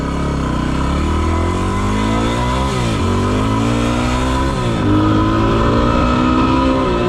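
A motorcycle riding gravel roads on tires at 25 PSI, its engine droning loud and close with rising and falling revs through gear changes, steady throughout.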